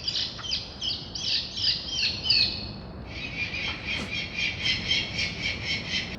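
An electronic bird-scaring device at an outdoor resort building emits rapid repeating synthetic chirps and squawks, shrill and steady, looping in fast pulses over outdoor ambience.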